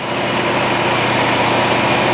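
A Corvette ZR1 engine idles fast and steady, a loud, continuous rough hum with no talking.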